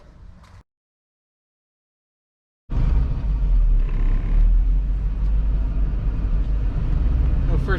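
A 1989 Ford F250 truck with a 460 engine, five-speed and 4.10 gears pulls away in low gear. A short sound comes first, then a pause, then a steady, loud, deep engine rumble that holds up close.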